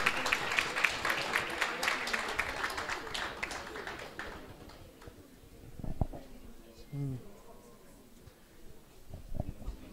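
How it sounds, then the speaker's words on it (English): Moderate audience applause for a contestant at a business pitching workshop fades out after about four seconds, followed by quiet room tone with a few scattered taps and faint voices. "Please, can we just give him a round of applause?"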